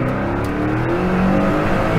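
A Hennessey Venom supercar pulls hard in second gear, its engine a loud, rising roar that fills the whole moment with steady power.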